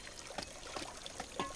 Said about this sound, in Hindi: अनु, पानी से मत खेल बेटा।